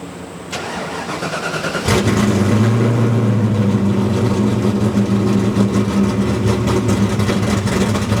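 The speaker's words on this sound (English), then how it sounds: "Now I'm going to do this at idle since it's very difficult to do this loaded on the dyno." A Ford small block V8 on a dyno fires up after a short crank and settles into a loud, steady idle, heard close with no voices.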